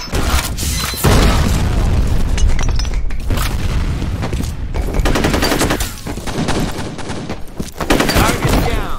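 Grenade explosions and gunfire in the shooter game F.E.A.R. Combat: loud booms and rapid bursts of automatic fire repeat throughout, with brief gaps between blasts and a voice shouting occasionally over the action.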